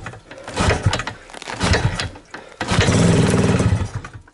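A motorcycle engine running in freezing cold around minus 20 degrees with the clutch pulled in, a rough, uneven idle that dips briefly before settling into a steadier, louder drone, close by and without speech.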